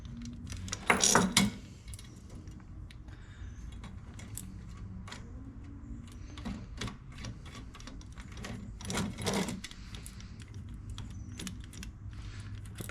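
Washers and nuts being fitted by hand onto the ABS mounting ears during an Mk60 ABS install on a Gen 2 Dodge Viper: a burst of small metallic clinks near the start and again around nine seconds, with quiet fiddling handling noise between.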